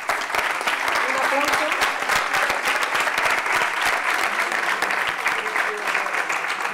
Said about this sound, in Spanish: le damos de nuevo un aplauso